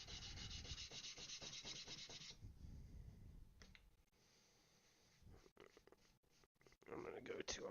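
Sandpaper rubs back and forth in quick, rhythmic, close strokes for a couple of seconds, then gives way to quieter scattered scraping and a few brief rubs.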